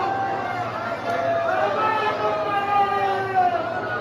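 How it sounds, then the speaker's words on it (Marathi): A large crowd at Mahakaleshwar temple in Ujjain, a dense, steady murmur of many voices with chanting-like tones, and a nearby person speaking over it. "खूपच गर्दी आहे गाईज."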